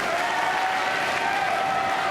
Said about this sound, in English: Hometown crowd really doing their best